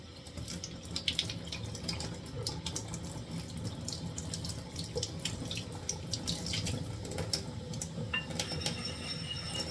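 Tap water runs steadily into a sink while a Japanese Mikawa Nagura stone is worked and sealed by hand, with scattered clinks and faint scraping over the continuous flow.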